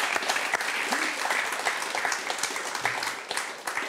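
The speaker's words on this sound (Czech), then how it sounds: "tak to si zaslouží potlesk." Steady audience applause with many hands clapping at once and a hint of voices mixed in, sustained throughout at moderate loudness.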